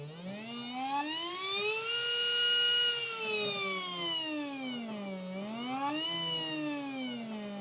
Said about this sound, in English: let's see what the motor says when it hits 12 volts